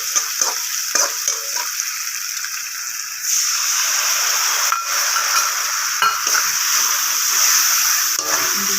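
Spice paste mixed with water is tipped into a hot pan of onions for a Bengali fish curry with potato and eggplant, and a loud, hissing sizzle erupts midway and continues.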